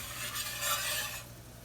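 Flour being whisked into pan gravy over medium-high heat after cooking deer steak, a steady scraping, stirring rustle with a soft sizzle underneath, continuous and close, swelling briefly in the middle before easing off.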